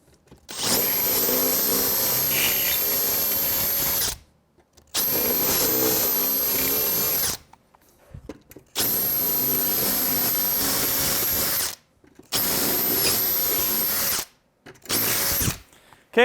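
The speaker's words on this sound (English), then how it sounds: "So let's hit them with the drill." Power drill driving into a car bumper during bumper repair, running in five sustained bursts of steady whirring with short silent gaps between them, loud and close with no talk.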